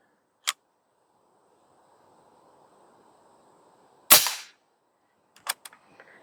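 A regulated Airforce Condor SS .25 air rifle fires once with a sharp crack. Two smaller clicks and a ticking clatter, likely from handling the gun, come before and after it in otherwise quiet surroundings.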